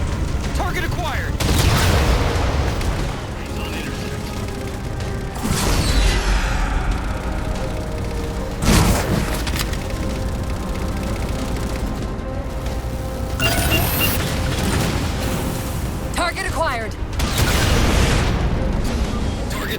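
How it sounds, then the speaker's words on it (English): Halo 4 railgun blasting Phantom dropships, a series of heavy booming shots with long rumbling tails spaced several seconds apart amid ongoing battle noise. "Target those phantoms for the railgun to shoot down."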